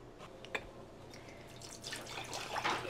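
Cold water trickles and splashes softly from a tap during washing, with small drips and a gentle running stream close by.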